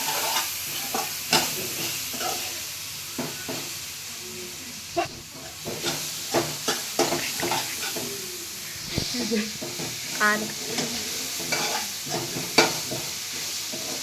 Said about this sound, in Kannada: ಸೊಪ್ಪಾಕಿ ಚೆನ್ನಾಗಿ ಹುರಿಬೇಕು, ಇಲ್ಲಾಂದರೆ ಕೈ ಸ್ಮೆಲ್ ಬರುತ್ತೆ